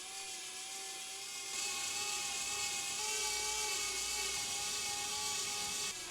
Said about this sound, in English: of course I'm going to use the drill again